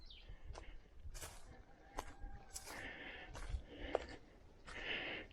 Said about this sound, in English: I hear the birds singing.